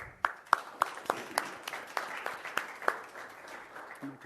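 Small group in a city council chamber in El Cajon gives sparse, evenly spaced claps, a handful of distinct hand strikes at a modest level rather than a full ovation.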